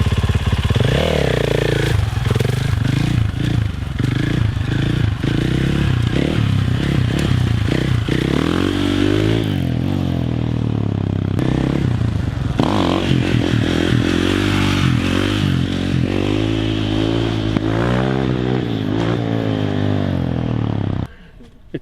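Dirt bike engine revving loudly and continuously, its pitch rising and falling in sustained throttle bursts with clattering mechanical noise, a close steady roar that cuts off abruptly at the end.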